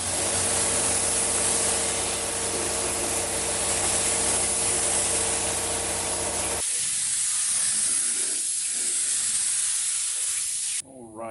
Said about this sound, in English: This will be my third and final coat of base, and then we'll hit it with clear.